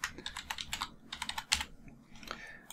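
Quick bursts of keystrokes clatter on a computer keyboard, close and clear, in short irregular runs with brief pauses between them.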